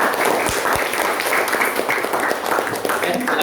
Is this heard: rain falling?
no